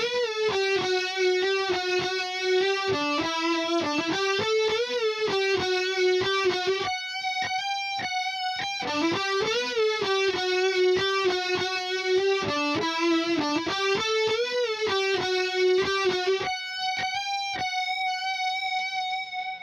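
A sustained electric guitar solo with distortion and chorus plays melodic lines with bends and repeated phrases, loud and continuous throughout.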